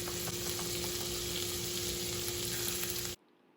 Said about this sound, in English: So here I'm melting my 112 grams of unsalted butter. Listen to the sizzle.